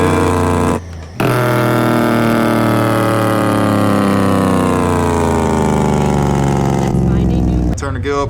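Truck Jake brake in American Truck Simulator, a loud close rattling engine-brake drone that starts abruptly, holds steady with slowly falling pitch for several seconds, then cuts off, with a voice talking over it.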